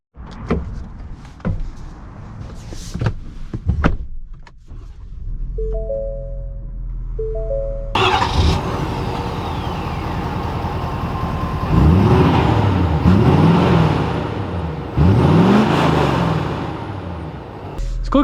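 A 2020 Ford F-350 Lariat Tremor pickup gives a few clicks and a chiming alert, then its engine fires up and settles into a steady run before building with rising revs as it drives off, fairly close and loud.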